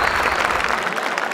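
An audience claps loudly and continuously at a comedy event, a dense close burst of applause with no voices over it.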